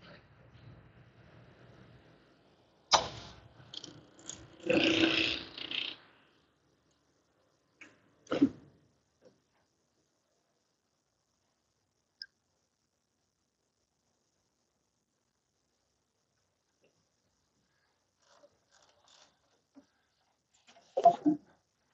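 A Horizon BQ 140 single clamp perfect binder milling a book spine and cover stock, with bursts of machine grinding and whirring early on, a sharp clunk mid-clip, then near silence before a final brief mechanical clatter.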